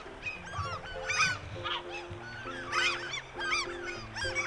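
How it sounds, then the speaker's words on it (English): Seagulls being fed bread call repeatedly in harsh, honking squawks from several birds at once, close and fairly loud over a low outdoor rumble. "I love when seagulls scream because they, like... They make a really funny pose."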